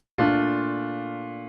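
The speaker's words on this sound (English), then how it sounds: "it sounds like this: the major 7th" A single sustained keyboard chord, a major seventh voicing, struck once and left ringing as it slowly fades.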